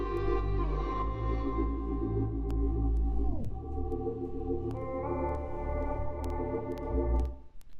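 A music sample loop plays at its original pitch, with sustained layered tones, a downward pitch slide partway through, and sharp percussive ticks, steady and close without any voices.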